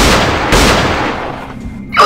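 A game gunshot from Potrick Snap: a loud burst right at the start, a second hit about half a second later, then a fading tail and another sharp sound at the very end.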